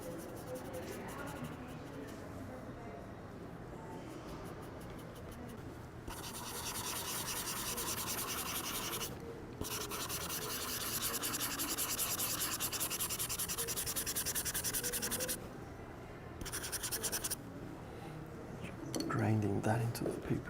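Drawing medium being ground into paper in a museum, heard as long, close rasping strokes in steady back-and-forth passes with brief pauses, while people talk quietly in the background.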